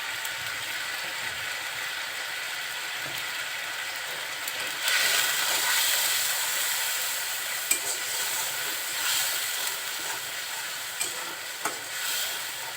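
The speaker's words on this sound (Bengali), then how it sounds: "খুব ভালোভাবে নাড়াচাড়া করে তেল ওঠা পর্যন্ত অপেক্ষা করতে হবে।" Beef tripe sizzles and fries in oil with chili and coriander powder while being stirred, giving a continuous crackling hiss with occasional scraping of the spoon against the pan.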